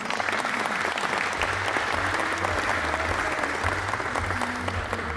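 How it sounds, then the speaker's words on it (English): Audience applause at the opening of a new factory hall in Poland, a dense, steady wash of many hands clapping for several seconds, loud and sustained, with a low hum beneath and faint voices mixed in. "A huge applause, please."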